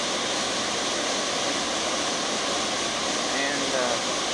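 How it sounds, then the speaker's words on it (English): Waterfall at Sioux Falls, South Dakota, a constant broadband roar of rushing water heard up close, loud and unbroken throughout. "let's just listen to the water."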